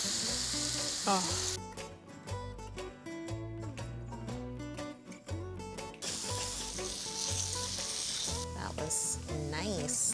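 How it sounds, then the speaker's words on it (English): Apple wedges sauté with butter, sugar and cinnamon in a pan, giving a soft sizzling hiss that is partly buried under loud background music, with a brief spoken exclamation. "peel these apples, cut them into wedges, and saute them with a little bit of butter, sugar, and cinnamon"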